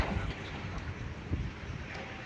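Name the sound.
strong wind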